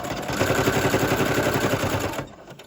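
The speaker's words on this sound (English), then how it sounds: "bring it back to the sewing machine. And we'll sew that one." Steady rapid mechanical chatter of a sewing machine stitching, loud and continuous for about two seconds before stopping.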